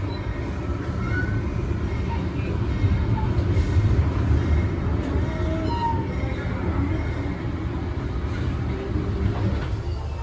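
Passenger train on the Pasundan Lebaran service pulling into Kertosono station, a steady loud rumble of wheels and carriages throughout with faint squeals over the top.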